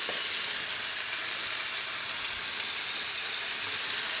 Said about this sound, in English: We're gonna flip it over, and you can see the nice color